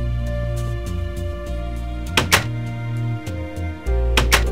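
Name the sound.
door closing in the video game Minecraft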